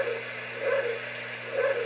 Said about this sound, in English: That bark does do damage to things.